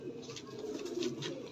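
A domestic pigeon kept by a fancier coos steadily and close by in a brief, continuous throaty murmur.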